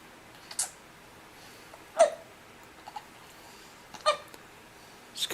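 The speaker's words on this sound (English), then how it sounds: "He gets hiccups almost every day." A young boy hiccups in short, sharp bursts, five spread across the stretch at irregular intervals, close and clear over a quiet room.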